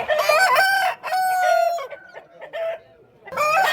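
A rooster crows loudly and close at a busy poultry market, with a long strained call, then clucking and a second crow starting at the end.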